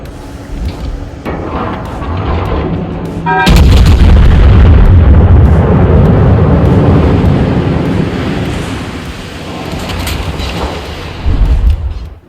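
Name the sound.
battlecruiser Mackensen firing HE salvo, naval video game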